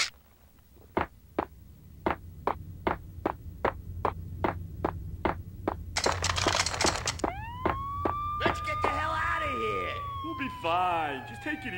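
Police sirens in the Xbox game Max Payne rise and begin wailing after a run of evenly spaced sharp clicks, the warbling tones growing loud and layered near the end.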